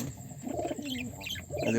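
Pigeons perched on top of a cage coo in short, throaty, repeated phrases close to the microphone, with a faint chirp mixed in.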